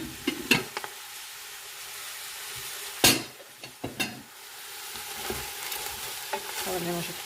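Greens go into a homemade soup pot with a soft sizzle and steady stirring, punctuated by a few sharp scrapes and knocks against the pot.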